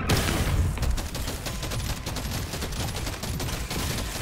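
Sustained, dense video game gunfire rattles on without pause at high intensity, with rapid overlapping shots and no voices.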